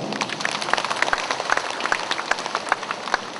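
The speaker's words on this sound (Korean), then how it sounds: "큰 박수 부탁드립니다." Scattered audience clapping greets guests being introduced at a university ceremony, with individual sharp claps popping out above a moderate, patter-like wash of applause throughout.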